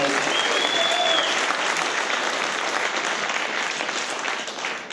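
Audience applause at a stand-up comedy show, a sustained wash of clapping from a large crowd with a brief whistle early on, tapering slightly at the end.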